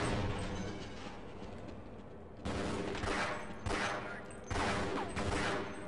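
Automated turrets in Half-Life open fire in sustained bursts, loud rattling gunfire in two long volleys after a quieter stretch of distant shots, no voices.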